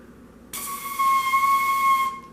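A thin cone-shaped tube is blown once, giving a single steady, airy whistle tone for about a second and a half, with a hissy breath edge.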